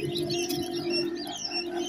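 Quail on a farm chirping continuously, with overlapping high twittering calls over a constant low hum, close and moderately loud.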